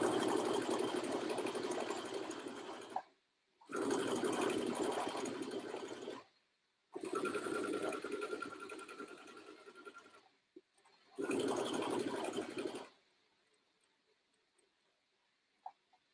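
A sewing machine stitches a 5/8 seam on the top tier of a child's dress skirt, running close in four steady whirring bursts of two to three seconds each, separated by brief pauses, and then it falls quiet.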